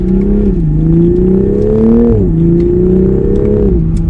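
A loud 2021 Toyota Supra engine hums and climbs in pitch, drops briefly as gears shift, then climbs again, heard from close inside the car, partly synthesized interior engine sound.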